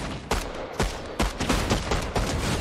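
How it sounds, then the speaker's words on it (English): Shotgun blasts in a Fortnite-style battle royale game, five or six loud, sharp shots spaced roughly half a second apart over a dense background of game noise. "I can only shoot you with a shotgun"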